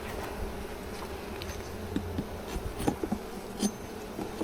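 Honey bees buzzing at an open hive, a soft, continuous hum close by with scattered faint taps and knocks.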